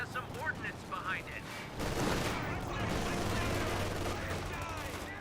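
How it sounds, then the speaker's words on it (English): MG42 machine gun fire in a Company of Heroes 2 battle, a dense sustained burst of gunfire that swells after the first couple of seconds, mixed with battlefield rumble and faint voices. "Garrison getting hit by the MG42 as well"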